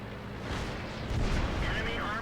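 Tank cannon fire in the World of Tanks video game: a dense, booming blast with a rumbling tail, followed by a second louder impact-like burst partway through, with game noise throughout.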